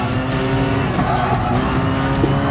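A race car spins and skids in Gran Turismo on PS4, loud engine roar with tire squeal running continuously at close range, no talk over it.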